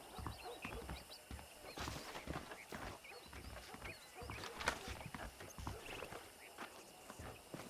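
Horse hooves clip-clop in a quick, uneven rhythm at moderate distance in the video game Red Dead Redemption, with a faint whinny and soft ambient noise behind them.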